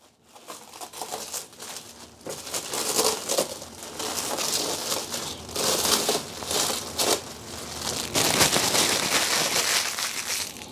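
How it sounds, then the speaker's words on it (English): Plastic wrapping being pulled off an Rlaarlo XTS RC car during unboxing, a run of loud crinkling and crackling bursts that keep going close up, with no talking. "Let's get this plastic off."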